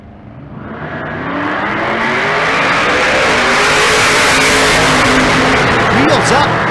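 A Pro Charger big-block Chevrolet Nova drag car launches at Bandimere drag strip, its engine roar swelling from moderate to very loud and sustained with a rising whine as it pulls hard down the track.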